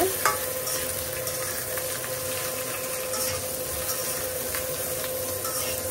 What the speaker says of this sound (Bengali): এখন একটু লবণ দিয়ে এটা একটু ভেজে নেই সবজিটা